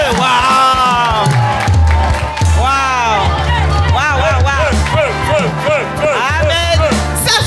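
A church congregation cheers, whoops and shouts in acclaim, a loud dense crowd of voices rising in excited cries and calls that keeps going throughout.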